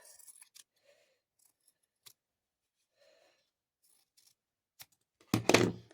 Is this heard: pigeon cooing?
no